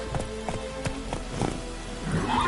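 Roach the horse from The Witcher 3 runs with steady clip-clop hoofbeats, fairly close and moderately loud, thudding in a quick rhythm over a low hum, with a rising swell of effects at the end.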